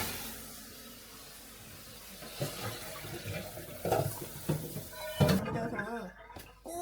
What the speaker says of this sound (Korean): 이렇게 살살살살 흔들어서 씻어주세요.